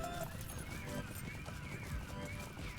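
Horse hooves clip-clopping in a video game set in Southern Mirkwood, a fast busy patter of steps under a continuous layer of game sound and some talk.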